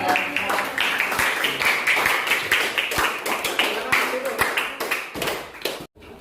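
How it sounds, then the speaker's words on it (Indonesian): Students in a classroom clap in applause after a group presentation, a dense, steady burst of many hands lasting several seconds before stopping abruptly near the end, with faint voices mixed in. "Beri aplaus buat"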